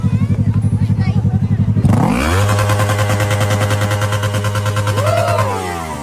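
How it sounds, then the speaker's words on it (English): A motorcycle engine idles with a fast, even pulsing, then a quick twist of the throttle sends it into a loud, sustained rev that holds steady before easing slightly at the end, close to the microphone. "he quickly reaches for the handle and gives the throttle a little twist just to hear the engine."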